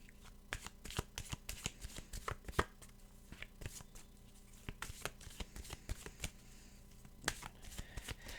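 A deck of oracle cards is shuffled by hand nearby, giving quick, irregular riffling snaps and flicks in clustered bursts, quiet and with no one talking.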